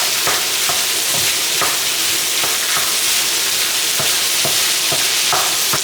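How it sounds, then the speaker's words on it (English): Chopped hickory ham and sausage pieces sizzle steadily in a hot pan, broken by repeated scraping stirs of a utensil at an even, close rhythm, with no talking. "Here I've got some hickory ham and some sausages chopped up. Add this in as well."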